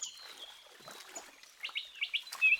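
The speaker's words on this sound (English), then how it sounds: "A group of tiny Indian white-eyes bathe in this tranquil paradise." Small flock of Indian white-eyes chirping in Western Ghats forest, a busy run of thin, high twittering calls, soft at first and then louder and quicker toward the end, with no other sounds.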